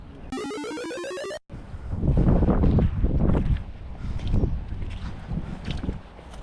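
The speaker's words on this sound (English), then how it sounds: "It is blowing hard, eh?" Strong wind buffets the microphone at an estuary fishing spot, roaring in loud gusts after a brief musical opening.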